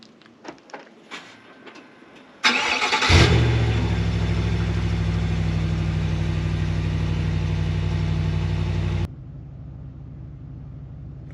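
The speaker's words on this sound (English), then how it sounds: "let me do a quick cold start for you guys" A pickup truck with a valved exhaust cold-starts after sitting for two weeks, firing with a sharp crank into a loud, rough, steady idle close by, then the sound abruptly drops to a quieter rumble near the end.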